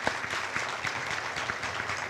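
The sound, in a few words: audience applause at graduation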